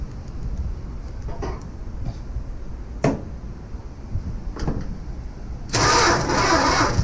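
A 1965 Plymouth Barracuda that has sat for three years cranks over, a rough mid-pitched churning that surges with a few sharp spikes, then becomes a louder, denser roar near the end, close and loud.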